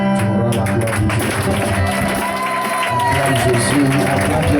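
A church congregation acclaiming and cheering, with a loud crowd roar, whoops, shouts and scattered clapping blended with music and voices throughout.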